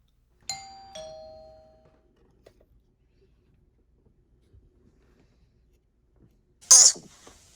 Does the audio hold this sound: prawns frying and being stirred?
no